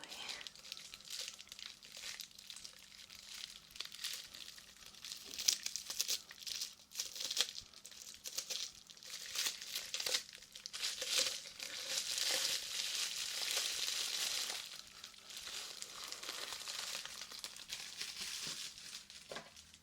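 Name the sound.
bubble wrap crinkling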